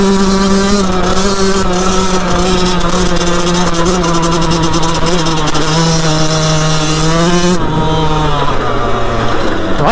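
A Yamaha YZ 125 two-stroke dirt bike being ridden off-road, its engine buzzing loud and close at steady revs before dropping off near the end, with no talk over it.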